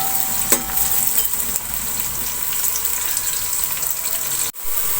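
Onions browning in a pan for an aloo chicken curry make a loud, continuous close-up sizzle with a few stirring scrapes and a brief clink near the start, then a sudden dropout near the end.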